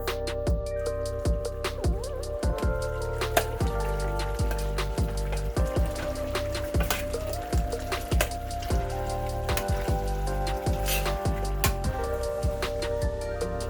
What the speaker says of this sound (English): here I'm using my lovely meat smasher or masher to get my seasonings well incorporated into all this ground beef